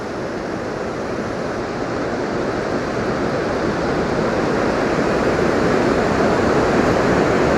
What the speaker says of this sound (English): And look at the waterfall here.